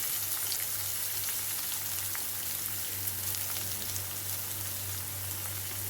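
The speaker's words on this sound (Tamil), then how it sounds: "வெங்காயம் நல்லா வதங்கட்டும்." Garlic, onion and curry leaves sautéing in a pan for a brinjal dish give a steady, even sizzle that crackles faintly throughout, with a low continuous hum beneath and no voices.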